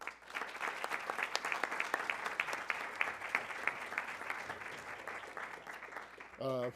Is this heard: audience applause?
yes